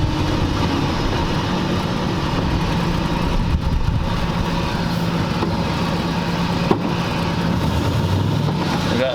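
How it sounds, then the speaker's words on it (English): A 1940 Ford convertible engine idles high, its idle hanging from a missing carburetor return spring, giving a steady, loud, unbroken drone that runs throughout with little change. "it needs a return spring on the carburetor because the idle's hanging"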